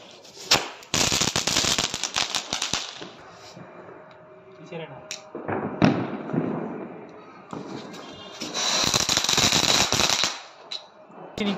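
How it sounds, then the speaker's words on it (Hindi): Hungama-type Diwali firecrackers crackle in rapid bursts of sharp pops, a dense volley early, a few scattered bangs in the middle and a fizzing crackle toward the end, with people talking around them. "अगली बारी है ये हंगामा टाइप के पटाखे की"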